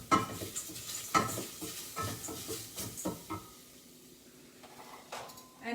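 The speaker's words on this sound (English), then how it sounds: "And at this point, I'm going to add the ginger. And saute it a little bit." Ginger sautéing in a pan for cauliflower lemon rice, with light stirring scrapes and soft clinks of a utensil against the pan over a faint sizzle, close and fairly quiet, with no talking.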